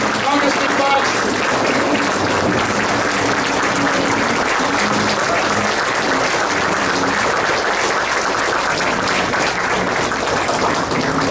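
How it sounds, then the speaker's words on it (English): A crowd at an Asian Pacific American community event applauds Congressman TJ Cox, giving sustained, loud, even clapping that continues throughout, with voices mixed in underneath. "Give him a big round of applause for TJ Cox, Congressman Cox."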